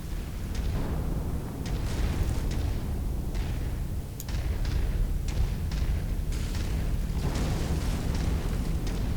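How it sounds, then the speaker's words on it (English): A big cannon fires in the Mechwarrior 5 Mercenaries video game, heavy rumbling booms and thuds over a dense, continuous low roar of battle noise, with no talking. "A big cannon firing off into space"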